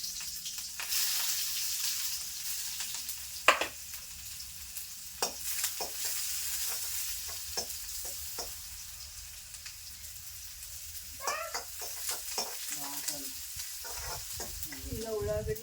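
Food fries in oil in a pan on the stove, a steady soft sizzle with scattered pops and stirring clinks, growing busier toward the end.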